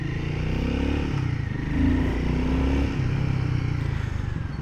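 A Royal Enfield Guerrilla 450 motorcycle with a 452 cc engine runs in performance mode while riding, a close, throbbing exhaust note that swells briefly with throttle before settling back to a steady pulse.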